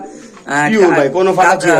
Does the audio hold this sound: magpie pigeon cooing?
yes